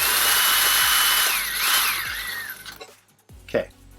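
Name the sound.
drilling off the top of a rivet in a Dell Optiplex case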